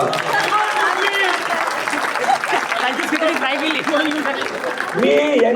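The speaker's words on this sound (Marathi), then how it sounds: "2000 साठी स्पेशल टाळ्या वाजवा." Audience applause at a school reunion gathering, steady clapping from a crowd sustained throughout with voices talking over it and a rise in chatter near the end.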